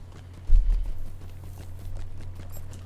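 Horse hooves in the Lord of the Rings Online game clop along in a steady quick rhythm, fairly faint over a low background hum.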